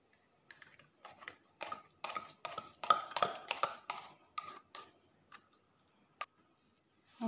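Whipped cream being folded together with vanilla yogurt in a bowl, heard as soft, quiet, close ticking and scraping strokes of a utensil in an irregular series with brief pauses.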